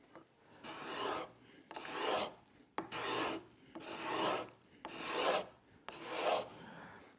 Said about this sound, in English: We can see that this is taking fine little shavings instead of the sawdust that we were getting before